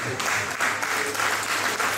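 Steady applause from a lecture audience at a professor's valedictory lecture, a dense continuous clapping held at an even level throughout.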